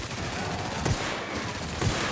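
Goop gun firing in The Outer Worlds, two muffled wet bursts about a second apart, set against a dense, steady wash of game noise.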